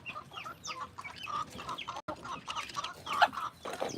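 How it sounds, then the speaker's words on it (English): A rooster on a homestead clucks with repeated short, throaty calls in an uneven rhythm, close and clear, with other chicken sounds around it. "There's the rooster."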